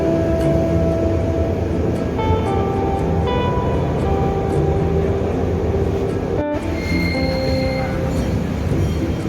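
KRL commuter train on the Jogja-Solo line running steadily, a continuous rumble with humming tones and rising whine from the motors, heard from inside the carriage with a brief dropout partway.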